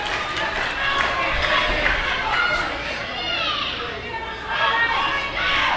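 A rowdy crowd at an Anarchy Wrestling show in Cornelia, loud continuous chatter, shouting and cheering filling the space, with an announcer talking over it.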